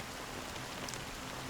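Steady, fine drizzle of rain falls in the Honkai: Star Rail game, a continuous soft hiss at even volume with no voices over it.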